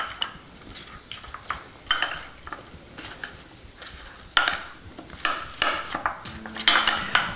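Apples being tossed in butterscotch in a pot, with a series of irregular metallic clinks and scrapes of a utensil against the pot over quiet bubbling.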